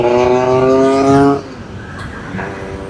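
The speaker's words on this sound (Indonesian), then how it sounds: "Berisik tuh motor." A loud motorbike engine with a strong harmonic drone dominates the first second and a half in night traffic on a congested Jakarta road, then cuts away into quieter road rumble and hiss.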